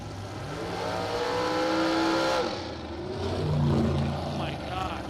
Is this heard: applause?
no